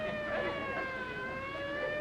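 A steady, droning siren holds a sustained wailing tone with layered harmonics, fairly continuous over a low background rumble.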